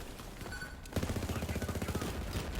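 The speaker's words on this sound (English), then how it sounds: "let's shoot the Overlord, because I don't think I've showed you guys the Overlord, how it shoots." Overlord gun from Borderlands 3 firing in-game, a fast unbroken burst of rapid shots that starts abruptly after a short lull and keeps a steady, loud rhythm to the end.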